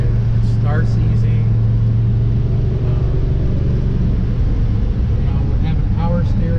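A 1969 Chevelle SS with a big-block V8 cruises along with a steady, loud low rumble that holds even throughout, heard from inside the car, with faint brief sounds over the drone.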